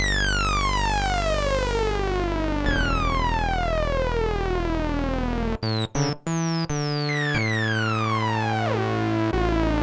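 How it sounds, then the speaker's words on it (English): Bright, buzzy synthesizer tones sweep down in pitch repeatedly, with harsh resonant harmonics and a few abrupt cutouts midway. "Which gives us, again, those kind of classic sync tones."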